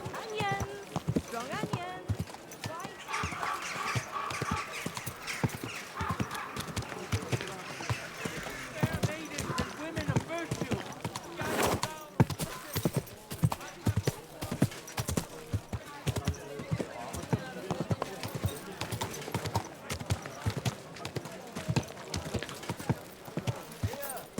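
Horse hooves clip-clop in Kingdom Come Deliverance 2, a steady rhythmic plodding mixed with occasional whinnies, under market chatter and a voice speaking to the horse.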